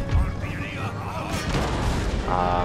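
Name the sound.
cannons firing in video game Empire: Total War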